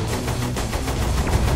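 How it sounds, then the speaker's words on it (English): Tank firing during play of Saints Row 4, a series of rapid heavy blasts in quick succession, loud and continuous, without talk. "Oh, you can fire the cannon."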